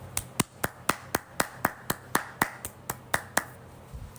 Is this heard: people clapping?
yes